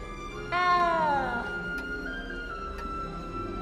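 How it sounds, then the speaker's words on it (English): A single drawn-out meow from a cat in the video game Hogwarts Legacy, a clear rising-then-falling cry lasting about a second over a quiet game ambience. "You don't need to be frightened, little cat."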